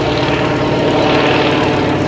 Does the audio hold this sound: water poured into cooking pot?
no